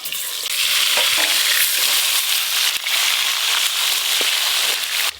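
Snakehead fish frying in hot oil in a wok, a loud, steady sizzle with crackles and a few sharp pops and clinks, close up and continuous.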